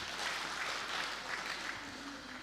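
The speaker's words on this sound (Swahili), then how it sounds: "Tuwapigie tena makofi" An audience applauds a panel at a Tanzanian agricultural event, a steady, fairly soft wash of clapping from a crowd, sustained without a break.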